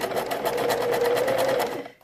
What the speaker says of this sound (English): And just sew slowly and carefully